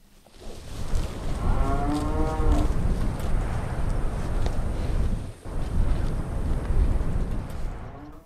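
Beefmaster cattle on a farm in Colombia give a drawn-out low moo near the start, followed by steady wind and outdoor rumble with further faint lowing.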